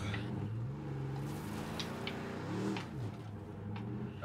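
A car drives in State of Decay 2 at dusk, its engine a steady low hum with a slight rise in revs, quiet and continuous with no talk over it.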